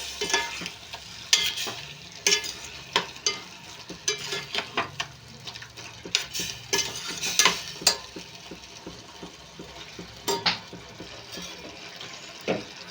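Frying in a pan with turmeric just added, a low continuous sizzle broken by frequent sharp scrapes and clinks of a spoon stirring, close and fairly busy throughout.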